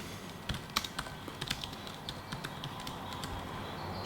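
Keys on a computer keyboard tapped out in an uneven run of light clicks while a YouTube search is entered, fairly faint against a steady background hiss.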